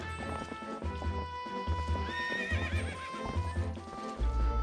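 The horse Epona galloping in the video game Zelda Twilight Princess, steady rhythmic hoofbeats and a whinny, heard under a layer of sustained game music with no talking.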